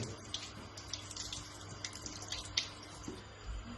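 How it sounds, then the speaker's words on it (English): Tap water runs steadily over machine embroidery stabiliser to rinse it away, a soft continuous hiss and splash with small irregular drips, close by and fairly quiet, with no talking. "it just needs a little bit of extra water, a little bit of running through"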